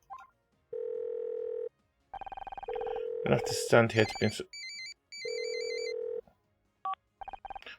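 A telephone rings in the video game Murder by Numbers, repeated electronic ring bursts with short gaps, followed by beeping tones; a voice speaks briefly in the middle.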